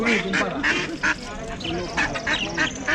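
Ducks at a rural market in Santa Maria, Mallorca, quack in repeated nasal calls, several close birds calling irregularly while people talk in the background.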